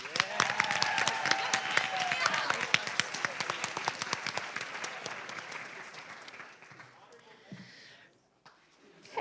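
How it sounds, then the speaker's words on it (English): Audience applause at a high school Poetry Out Loud recitation event, honoring honorable mention students: sustained clapping with crowd murmur and voices over it, gradually dying down to quiet near the end. "if you could give them, each one of them, another round of applause"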